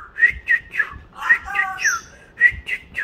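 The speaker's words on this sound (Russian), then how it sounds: "Вот так мама свистит." A woman whistles a quick series of short, clear notes, close and loud, in an uneven rhythm of paired chirps with one lower warbling phrase in the middle.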